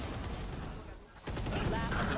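A short burst of rapid gunfire in a professional Valorant match, loud and close, cracks in quick succession with a brief lull midway before the shooting resumes.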